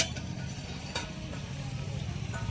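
Egg curry gravy bubbles and sizzles in a pan, a low steady simmer with faint stirring scrapes and an occasional sharp tap of a utensil against the metal.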